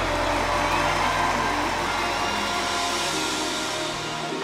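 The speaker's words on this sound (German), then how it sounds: "Einen riesen Rostocker Applaus" A huge stadium crowd at a live concert in Rostock's Ostseestadion roars and cheers in a dense, loud, continuous wash of voices that eases slightly toward the end.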